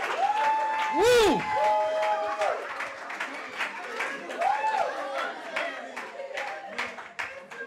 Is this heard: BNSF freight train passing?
no